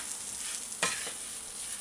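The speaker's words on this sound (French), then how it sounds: "je dois brasser. Comme ça, les épices vont bien se mélanger." Potatoes with spices sizzle in a frying pan, a steady close hiss with one brief scraping stir near the middle; no talking.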